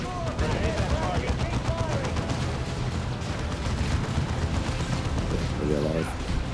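Rapid, continuous gunfire rattles through a Warhammer 40,000 video game battle, with dense overlapping shots and booms and brief voices cutting through the din.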